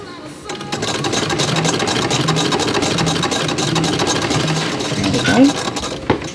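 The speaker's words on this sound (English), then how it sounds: "So you see it doing the ruffle, and it should be sewing it on at the same time." A sewing machine fitted with a ruffler attachment gathers and sews a ruffle onto fabric with a rapid, steady mechanical chatter, close and moderately loud, ending in a brief stop with a small clunk.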